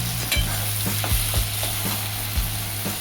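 Mashed eggplant sautéed in a pan for Maharashtrian bharit, a steady close sizzle of frying broken by a handful of sharp spatula scrapes and taps against the pan, no voices.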